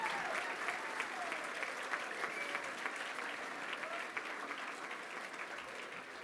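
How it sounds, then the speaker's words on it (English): A graduation audience at the University of West London applauds in a sustained, moderately distant wash of clapping that carries on evenly throughout. "Give him a big round of applause."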